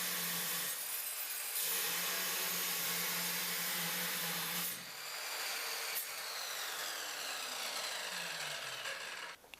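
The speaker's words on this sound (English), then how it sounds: "The diamond blade equipped with special diamonds is meant only for cutting cast iron pipes" A power saw with a diamond blade whines and grinds steadily through cast iron pipe at close range, with a brief dip partway through before the cutting resumes.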